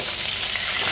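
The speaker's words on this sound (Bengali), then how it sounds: "এই দেখো, মাছটা ভাজা হয়ে গেছে প্রায়।" Silver carp pieces frying crisp in hot oil in a pan, a loud, dense, steady sizzle with no voices.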